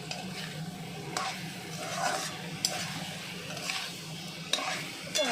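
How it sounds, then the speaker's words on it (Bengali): Fried pointed gourd is stirred in a pan over high heat, a soft background sizzle punctuated by occasional scraping strokes of the spatula, fairly quiet and close. "দিয়ে এবার নাড়তে থাকুন গ্যাসটা জোরে করে"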